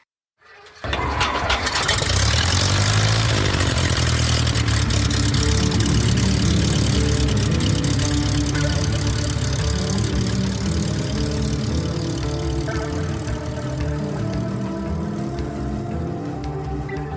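A propeller aircraft engine fires up nearby and runs on in a loud, dense, continuous rumbling drone that holds steady and loud to the end.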